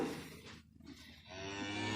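A cow on a cattle farm lets out a drawn-out moo, fairly faint and at moderate distance, breaking briefly mid-call before resuming, with no speech.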